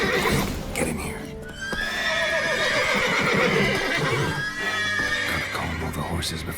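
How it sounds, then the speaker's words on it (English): Horses neighing in the video game The Witcher 3 Wild Hunt, in a stable near sleeping guards: loud, close whinnies follow one another, with light clip-clop of hooves underneath. "Gotta calm all the horses before they wake the guards."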